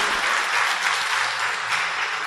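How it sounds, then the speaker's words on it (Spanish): A church congregation applauds steadily through the whole moment, a dense wash of many hands clapping at even loudness with no voices over it. "dale un aplauso al Señor"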